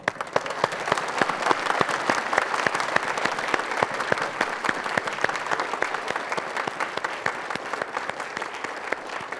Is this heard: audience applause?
yes